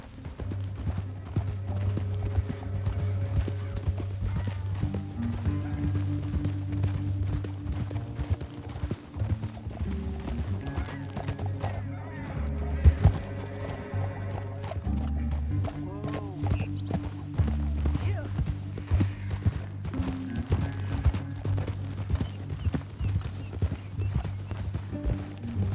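Horse hooves gallop in steady rapid clip-clop rhythm across Red Dead Redemption 2 terrain, loud and continuous beneath a low droning music bed, with a brief whinny and some character dialogue over it.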